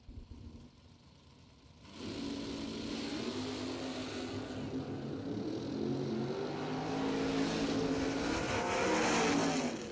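A Generation 2 Camaro launches at a bracket drag race, its engine rising from a low rumble into a loud, sustained roar that swells steadily as it runs down the strip.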